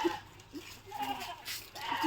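Goats bleat close by in a few short, faint calls with quiet background noise between them.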